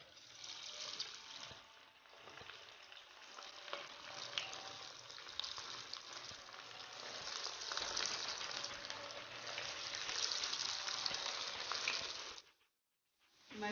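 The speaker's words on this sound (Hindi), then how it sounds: "ये देखिए कोफ्ते हमारे बनकर रेडी हैं। अब हम इनको फ्राई करते हैं।" Koftas frying in hot oil for an aloo gosht dish, a steady close sizzle with watery crackle running continuously before cutting out near the end.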